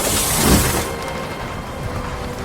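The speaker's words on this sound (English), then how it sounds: "as the storm got worse, lightning struck one of the trees in Henry's forest, and it fell down with a crash." A thunderstorm with rain and lightning sweeps over a forest, with a loud rumbling surge at first that settles into a steady, dense hiss of rain.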